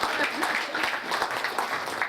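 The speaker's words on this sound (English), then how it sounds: "that deserves a round of applause" Audience applause at a gold accreditation ceremony for Swazi MTN, a dense, steady patter of many hands clapping at close range throughout.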